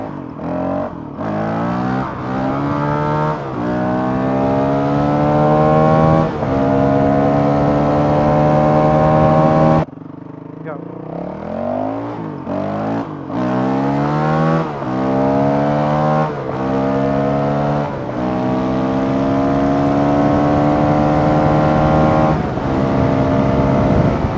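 Honda CRF 450 RL motorcycle riding on a road, its engine loud and close, revving up through repeated gear changes with rising pitch, a brief drop off the throttle midway before pulling hard again.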